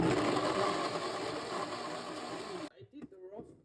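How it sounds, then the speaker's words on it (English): A kitchen blender grinds moringa soup ingredients in a loud, continuous, close whir that cuts off abruptly, followed by someone speaking. "then I'm going to grind it all together."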